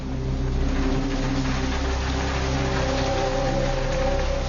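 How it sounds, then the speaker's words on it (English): Steady rain pouring down at night, a dense, constant hiss with a low rumbling drone underneath, unbroken throughout. "It was raining that night too."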